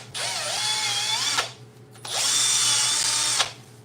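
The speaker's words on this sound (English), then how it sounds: "I've resorted to drill with like a wire brush bit." A drill fitted with a wire brush bit scrubs a Volkswagen Beetle engine block in a garage, two sustained whirring runs of about a second and a half each, separated by a short pause, close and fairly loud.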